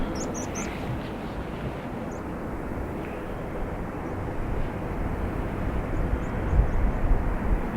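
Airliner, a Finnair jet, departing Dublin Airport's single runway: a broad, steady engine roar that swells slightly toward the end, with a few faint bird chirps above it.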